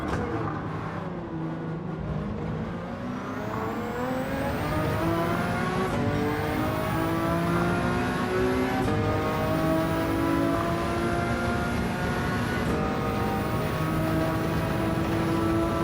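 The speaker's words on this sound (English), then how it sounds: "That's a GTR coming up." A Nissan GT-R in Gran Turismo 7, engine note droning continuously with rising and falling harmonics as it climbs through gears, sharp shift breaks repeating every few seconds, loud and steady with no talk.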